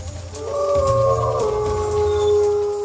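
A lion-sized prehistoric bear-dog (amphicyonid) of the Miocene lets out a long, loud, wavering howl that bends in pitch and sustains for nearly three seconds, with no voices over it.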